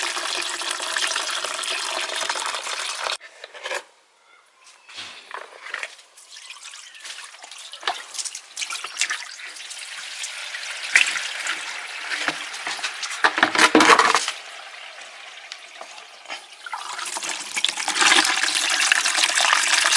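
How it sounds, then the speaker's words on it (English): Liquid fertilizer from a home worm farm pours out of a tap in a continuous trickling stream, close and fairly loud, with brief pauses and splashy surges as the flow shifts. "if this tap is on, which it is now, it's going to flow out my first light of liquid tea"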